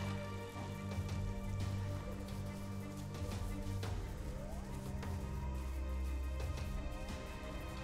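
Steady rain patters continuously on surfaces in a jungle setting within a raptor dinosaur survival video game, with sharp droplet hits scattered through the constant downpour.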